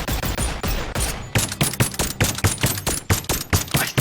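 An MP5 submachine gun fires in a video game, loud close bursts of rapid, evenly spaced shots, a short string first and then a longer rhythmic volley after a brief pause.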